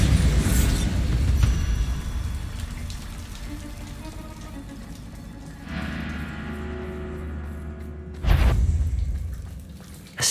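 Bombarda blasting spell from the video game Hogwarts Legacy, fired in a spider fight, two heavy booming explosions with crackling debris, one at the start and another near the end, over a steady rumbling game soundscape.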